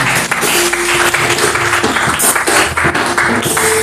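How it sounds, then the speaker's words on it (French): A church congregation applauds and cheers during an evening worship service, a loud, continuous mix of clapping and raised voices with tones from music or singing running underneath. "Tu vas acclamer le Seigneur et l'applaudir."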